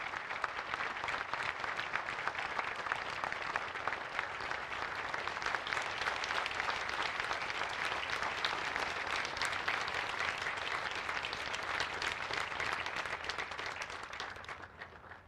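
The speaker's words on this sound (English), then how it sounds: "a huge round of applause for Riptide Ripple" Steady, dense crowd applause at a Pearl Harbor remembrance ceremony, sustained loudly for about fifteen seconds before tapering off at the end, with no talking over it.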